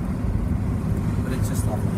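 An FJ Holden utility drives along the road with a steady low engine rumble and road noise throughout, close and even, with occasional faint higher rattles.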